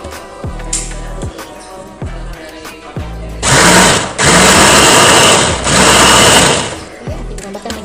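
Kitchen blender whirring a pisang ijo syrup mixture with water in loud, steady bursts, starting and stopping a few times between quieter clinks and handling sounds.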